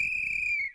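A single steady, sustained whistle blast at night, clear and fairly loud, trailing off sharply after under a second over a faint low background.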